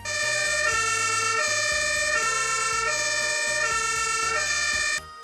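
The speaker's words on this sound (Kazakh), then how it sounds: "Пожарная машина." A fire engine's siren wails loud and close, its tone stepping between pitches in a steady repeating cycle before cutting off abruptly near the end.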